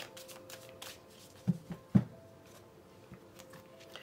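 Tarot cards shuffle close by in soft riffling flicks, with a few sharper snaps of cards striking and a faint low background.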